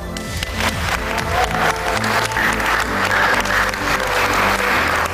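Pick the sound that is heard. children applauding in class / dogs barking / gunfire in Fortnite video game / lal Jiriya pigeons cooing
children applauding in class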